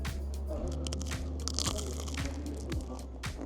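Crunchy bites into a caramelized Breton butter-and-sugar pastry, a few crisp crunches close to the mic over steady outdoor background noise in a French seaside city.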